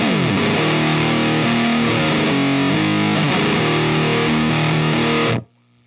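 A heavily fuzzed electric guitar through an Electro-Harmonix Lizard Queen fuzz pedal, knobs at noon, plays a thick, saturated riff for about five seconds, loud and continuous, then cuts off abruptly.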